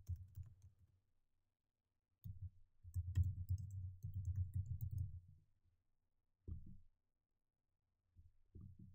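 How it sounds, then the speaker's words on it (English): Fingers type a username on a computer keyboard in quiet bursts of rapid close clicks, separated by short silent pauses. "we'll type in our username or email"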